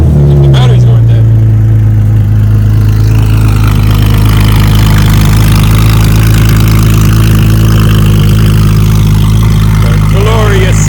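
A Porsche 996 GT3 track car with the 3.6-litre Mezger flat-six idles steadily in neutral, a deep, even rumble held up close for the whole stretch, with a brief voice at the start.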